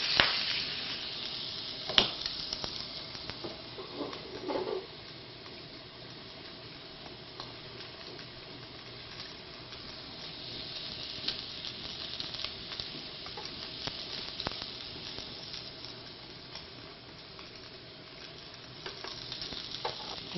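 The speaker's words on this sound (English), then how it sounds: "Get a nice sear on that steak." Steak searing in a hot pan for a Sunday cheesesteak sandwich gives off a steady, moderate sizzle that holds for the whole stretch, with a few brief clinks and stirring touches near the start and no voices.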